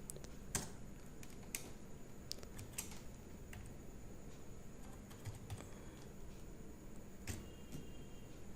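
A computer keyboard clatters with quiet, close keystrokes while text is typed in Notepad, with a few sharper taps and no talking.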